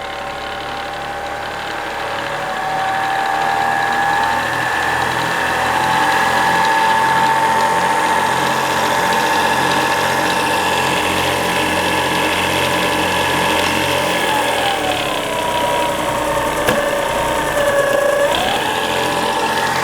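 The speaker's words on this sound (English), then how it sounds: "Definitely got to tighten the belt slipping." A vintage Goodell-Pratt belt-driven drill press runs steadily and loudly with a constant whine and a rumbling drone, its pitch wavering slightly from a slipping belt.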